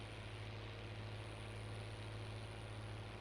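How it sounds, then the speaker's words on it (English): A John Deere tractor in Farming Simulator 19 pulls a large seeder, its engine a steady, continuous drone with a low rumble that holds an even level throughout, with no talk. "Certainly no issue with horsepower with this tractor, pulling this bigger seeder."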